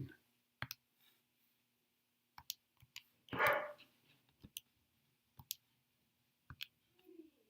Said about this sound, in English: Our dog, she likes to bark.